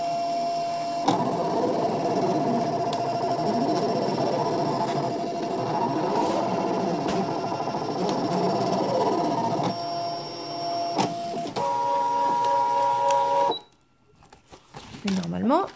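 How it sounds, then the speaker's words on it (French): A cutting machine runs close by as it cuts a tree shape out, with steady motor whirring and repeated mechanical carriage sweeps, then it stops abruptly near the end before a brief voice. "Alors là, votre machine, elle découpe."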